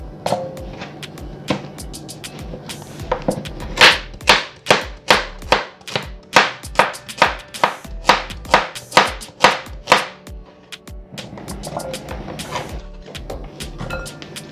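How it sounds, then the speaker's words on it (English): Knife chopping carrots on a cutting board: a fast run of sharp, evenly spaced chops in the middle of the stretch, with quieter, scattered taps and kitchen handling before and after. "And you want to continue this process till all of the carrots are chopped."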